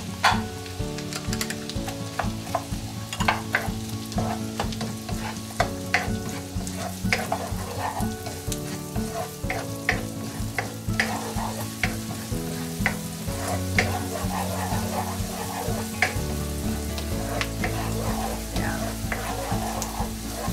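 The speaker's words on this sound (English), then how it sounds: "Saute the garlic and onions until it turns light brown or everything is translucent" Garlic and onions sauté in very hot butter with a loud, continuous sizzle broken by frequent stirring scrapes, and there is almost no talk.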